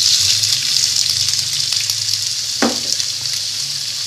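Minced meat sizzles steadily in a hot pan with cumin and coriander, a loud continuous frying hiss with a brief stirring scrape partway through.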